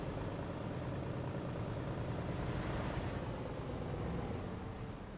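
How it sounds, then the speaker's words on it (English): Simulated truck engine in the TruckersMP driving game, a steady broadband diesel drone that stays loud and even throughout, slightly easing at the end, with no talk over it. "The engine sound is what I'm listening at. What is that engine sound? That sounds nice."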